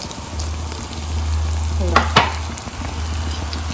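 Cooked onion and coconut sizzle in a pan as a spoon scrapes through them, with a steady low frying hiss and a couple of sharp stirring clanks near the middle.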